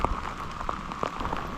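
Rain patters steadily on a surface, with scattered distinct drops tapping over a constant background rush.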